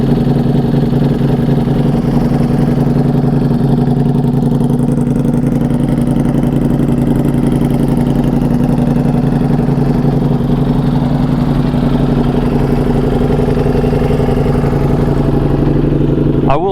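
A Ducati Panigale V4 motorcycle idles roughly and unevenly, a loud, steady, close engine drone with irregular pulsing that holds throughout, ending in a brief clatter.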